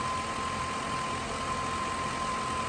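Warm car engine idles steadily with the cooling fan running, a constant even hum and whir close by with no talk.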